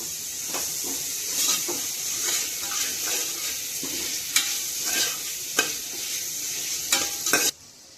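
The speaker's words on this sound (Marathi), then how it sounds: "कांदा फ्राय होऊ द्यायचा आहे" Onion frying in a pan, a continuous bright sizzle broken by repeated clinks and scrapes of a stirring spoon, heard close with no talk, before the sound cuts off abruptly.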